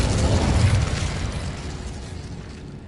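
Incendio fire spell blast from the video game Hogwarts Legacy, a loud, deep fiery boom that hits at once and then rumbles and fades over about three seconds.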